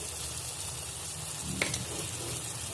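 Ginger, garlic and chili paste with chopped tomatoes frying in a pan for spinach dal, a steady soft sizzle with a brief stir or clink partway through, no talking.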